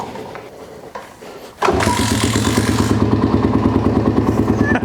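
Long-neglected Kawasaki KLR dirt bike engine cranking with the choke on, then catching abruptly and settling into a loud, rhythmic single-cylinder idle close by.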